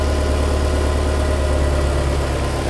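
A SKAUT TY404 mini tractor engine idles in a steady, loud, close low rumble with constant vibration and no pauses or voices.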